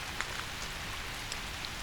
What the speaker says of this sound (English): you can see the rain tapping against its panes and streaking across the curved surface